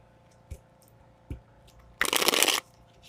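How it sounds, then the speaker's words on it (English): A deck of tarot cards being shuffled: two light single taps, then a loud, close riffle of about half a second, heard alone without talk. "we'll just shuffle the deck a couple of times and we'll get going"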